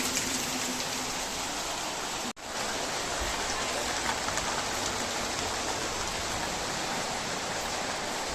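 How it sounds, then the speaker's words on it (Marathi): Heavy rain pours steadily outside, a dense, even hiss of drops on surfaces that fills the whole stretch, with one brief dropout partway through and no voices. "बाहेर पाऊस चालू आहे बघा"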